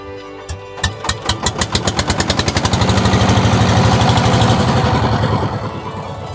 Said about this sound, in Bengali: স্টার্ট হলো বোটের ইঞ্জিন ঘট ঘট শব্দে চলতে শুরু করেছে যান্ত্রিক বোট পানি কেটে এগিয়ে চলা